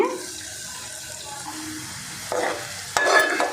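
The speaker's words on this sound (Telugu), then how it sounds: "నూనెలో చక్కగా వేగిపోయేయండి" Bitter gourd pieces frying in oil make a soft, steady sizzle that swells louder near the end as they are stirred or lifted from the pan.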